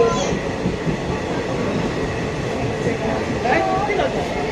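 A passenger train rolling through dense, rain-soaked forest, giving a steady, loud rumbling roar with faint squeals and rattles near the end.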